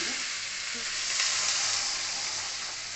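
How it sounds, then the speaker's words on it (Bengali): Water poured onto a ginger and cumin spice paste frying in a pan sets off a close, steady sizzle with a brief low gurgle and a stirring scrape, and no voices over it. "আমি জল দিয়ে দিলাম"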